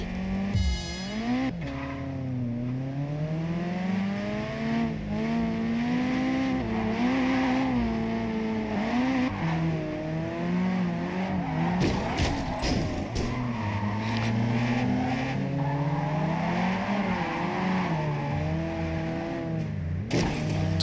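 A car drifts in a racing video game, its engine revving and wavering in long sweeps while tires squeal through the turns, loud and continuous with passing bursts of other cars.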